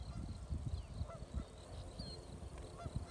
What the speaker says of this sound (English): Here we have some geese